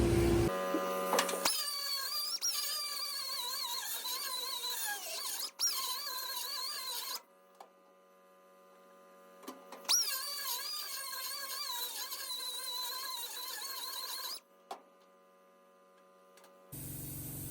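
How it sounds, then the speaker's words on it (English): A grinder opening up a hole in a metal steering column mount on a Model A coupe hot rod, a loud whining high-pitched grind in two long bursts of several seconds each, separated by near silence. "grinder, and I'm gonna open this hole up just a little bit and try to get it where the steering column will barely slide in and out of it"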